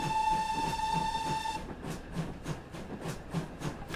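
Victory Works Pannier tank model steam locomotive, a sustained steady whistle tone giving way to rhythmic chuffing exhaust beats at a regular pace, close and moderately loud.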